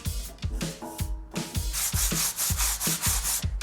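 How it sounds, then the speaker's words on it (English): Loose, flaky rust is sanded and scrubbed off an iron fire basket, giving a steady run of close, rhythmic abrasive rubbing strokes with a hollow metallic ring under each pass. "all I'm trying to do with the sanding and the scrubbing is to get rid of the loose, flaky rust"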